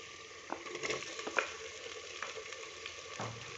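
Chopped tomatoes hitting a pan of lightly fried ginger, garlic and chilli paste for a turnip, potato and peas curry, giving a soft steady sizzle with a few stirring clatters, close and fairly quiet, with no voices.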